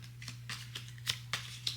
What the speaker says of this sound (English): So I'm just shuffling in hopes I get a card that'll win.